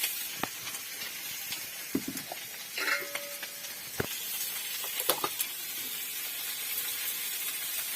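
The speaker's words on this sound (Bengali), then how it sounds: "এখন এটা ভাজবো" Food sizzles in a frying pan with a steady soft hiss, broken by scattered clicks and scraping stirs, fairly close and quiet.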